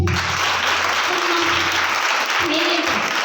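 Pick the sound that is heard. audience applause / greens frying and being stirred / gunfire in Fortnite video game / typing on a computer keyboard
audience applause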